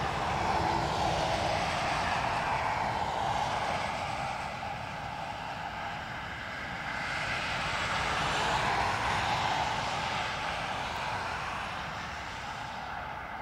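An ATR turboprop inbound at Dublin Airport hums with a continuous propeller drone that rises and falls in two gentle swells, moderately distant, with no voices.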